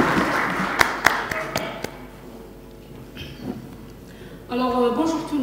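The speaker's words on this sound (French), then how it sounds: "Sous vos applaudissements." Audience members at a maritime forum give a brief round of applause with scattered, distinct claps that fade out, followed by a voice speaking.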